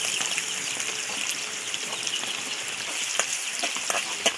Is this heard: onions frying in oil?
yes